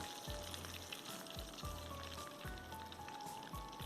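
Breadcrumb-coated chicken crackles and sizzles in hot oil, a steady, close, bright frying hiss with no voices over it.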